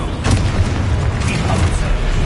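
Booming spell blasts from Hogwarts Legacy combat, a dense continuous roar of low rumbling bursts with crackling impacts, loud and close throughout with no gaps.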